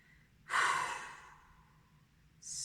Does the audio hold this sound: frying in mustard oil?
no